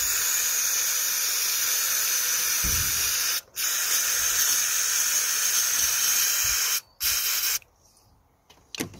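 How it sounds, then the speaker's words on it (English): An aerosol can of engine cleaner and degreaser hisses onto a BMW 1 Series MAP sensor in long continuous bursts, broken by two brief pauses and ending with quieter, shorter puffs, close and loud. "we're going to be using an engine cleaner and degreaser. So just gonna spray on the sensor itself."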